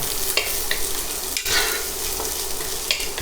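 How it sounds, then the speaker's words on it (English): Shallots, celery and carrots sizzle steadily in a pot for tomato bisque while a utensil stirs them, with scraping strokes recurring about every second over the constant frying hiss, close by and without speech. "We want to go ahead and stir this up"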